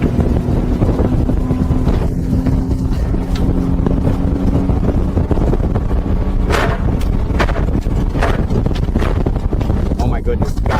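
A Maxima 740 motorboat accelerates toward top speed, its engine drone and rushing water dense and loud throughout under heavy wind buffeting on the microphone, with someone talking briefly over it.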